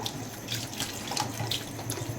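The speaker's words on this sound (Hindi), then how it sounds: "तकरीबन 2 कप के करीब हम पानी डाल के इसको पकने के लिए रखेंगे" Water runs steadily from a tap for a couple of seconds, a continuous splashing stream close by, as about two cups go into a cooking pot of chicken and vegetables for pulao.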